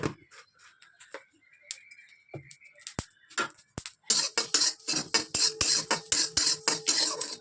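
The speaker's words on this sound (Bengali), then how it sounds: "তেল ছাড়া ডাল শুকনো কাঠখোলাই দেবো একটা শুকনো লঙ্কা দেবো আর দেবো জিরে" Red lentils, a dried red chilli and cumin seeds stirred dry in a hot pan with no oil, giving a quiet stretch of light scraping and clinks that turns into a steady run of close, rhythmic spatula scrapes and taps.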